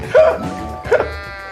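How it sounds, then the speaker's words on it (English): A sheep character in the video game Oddballers gives two short, nasal bleats in quick succession, close and clear, with game sounds faintly behind. "Oh, but look, this sheep can knock everyone off."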